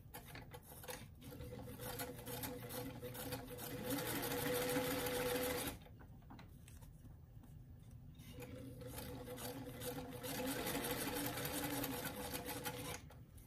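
A sewing machine runs close up, stitching a zipper into doll clothes: a dense, fast mechanical whir in two long bursts with a short pause between them.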